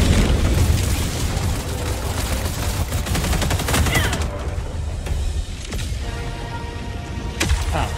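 Video game gunfire rattles in dense, continuous bursts with heavy booming impacts mixed in, loud and close, with no talk over it.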